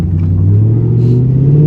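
A Lexus LS400 V8 engine holds a steady, loud low drone at sustained revs, its deep rumble slowly rising in pitch, with no talk over it.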